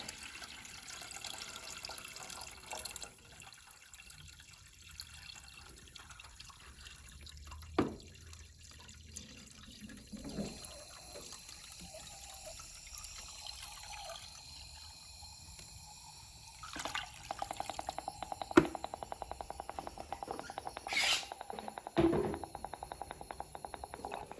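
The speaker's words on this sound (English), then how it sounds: "you want to make sure you try to pour it towards the center of your cold tank" Cleaning solution is poured into the cold tank of an Avalon water cooler, making soft trickling and dripping that grows louder and steadier toward the end, with a few sharper splashes.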